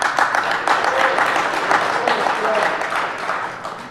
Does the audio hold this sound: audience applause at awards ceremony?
yes